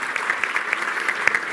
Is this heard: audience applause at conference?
yes